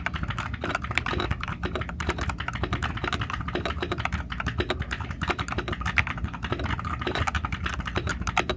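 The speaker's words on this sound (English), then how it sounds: "it's a mechanical keyboard that sounds like what many think a basic mechanical keyboard should sound like" Steady, fast typing on a Tecware Phantom S budget mechanical keyboard, with dense clacky keystrokes close up and no voices.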